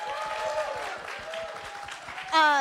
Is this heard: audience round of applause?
yes